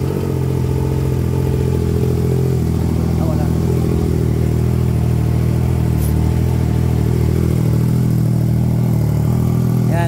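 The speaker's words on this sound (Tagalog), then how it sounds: "Exil full exhaust Triumph Trident Exil original from Spain" A Triumph Trident 660 motorcycle fitted with an IXIL full exhaust from Spain idles close by, a loud, steady, throbbing burble with a slight clatter that holds continuously throughout.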